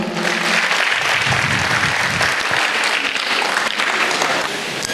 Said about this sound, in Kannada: ಅವನಿಗೊಂದು ಜೋರಾದ ಚಪ್ಪಾಳೆ ನಾವು ಹೊಡಿಬೋದಲ್ಲ